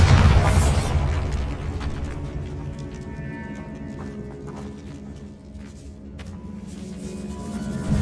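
A Bombarda explosion spell goes off in Hogwarts Legacy with a loud low boom at the start, followed by decaying rumble and scattered debris crackles under a lingering ambient drone.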